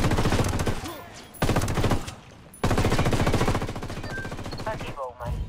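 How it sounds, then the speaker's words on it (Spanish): Bursts of machine gun fire in the video game Ghost Recon, loud sustained rattling volleys broken by short gaps, with a faint voice near the end. "ametralladora, dice"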